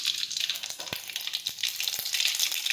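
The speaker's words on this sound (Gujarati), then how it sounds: "હવે આપણે તેમાં રાઈ અને જીરું નાખીશું." Mustard seeds and cumin sizzle and crackle in hot oil for a vegetable curry of kantola, a steady bright frying hiss broken by a few sharp pops, close and alone with no talk.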